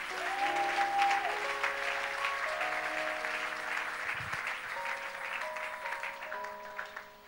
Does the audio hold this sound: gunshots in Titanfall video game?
no